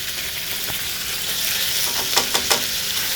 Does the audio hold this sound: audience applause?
no